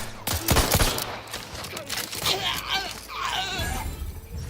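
Gunfire in The Outer Worlds 2 on its hardest difficulty, a burst of close, loud shots near the start followed by scattered rattling fire and chaotic game noise throughout.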